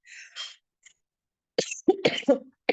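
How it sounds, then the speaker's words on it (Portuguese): A few breathy, rough coughs in quick succession, close to the listener, after a faint hiss and a short pause. "desculpa, eu estou tossindo ainda."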